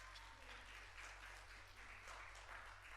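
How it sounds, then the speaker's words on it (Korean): A church youth service audience claps together, a dense, moderately distant patter of many hands that carries on evenly for about three seconds with no voices over it. "박수."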